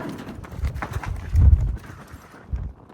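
A saddle horse's hooves thud and shuffle on the ground as it is unloaded for a cowboy cattle drive in the Utah desert, several uneven close steps with one heavier stomp in the middle.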